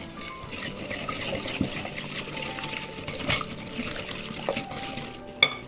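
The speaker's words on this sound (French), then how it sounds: "On fouette bien." Sunflower oil being whisked into sugar in a bowl for an orange or lemon cake batter, a steady scraping, clinking whisk rhythm against the bowl with a couple of sharper knocks, close and continuous.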